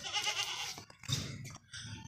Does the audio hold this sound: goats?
yes